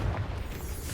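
Confringo spell blast in Hogwarts Legacy, a short, muffled, low booming explosion that rumbles for under a second.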